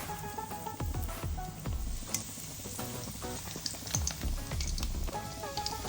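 Chicken cheese lollipops fry in oil over low heat, a soft steady sizzle with light crackles and occasional clinks of stirring, heard alone without talk.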